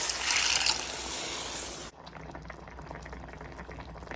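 Water splashes loudly into a pot holding pasta for about two seconds, then cuts off, leaving a quieter low trickle and light rattling afterward.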